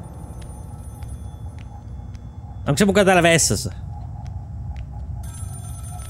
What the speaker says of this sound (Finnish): a phone is ringing, I better take a look